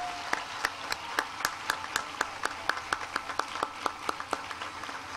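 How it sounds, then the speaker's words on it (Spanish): Church congregation applauding during a Mass in honour of the Pope, steady rhythmic clapping in unison with evenly spaced sharp beats, moderately distant in a reverberant space. "vamos a enviarle un saludo al Papa con un gran aplauso de fidelidad al Santo Padre."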